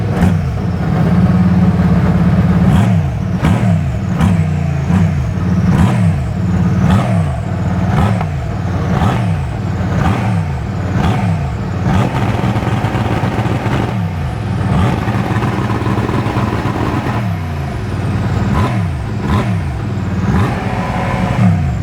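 An Aston Martin Vantage engine fires and revs hard at close range, its loud, steady roar rising and falling in repeated sharp throttle blips with no talk.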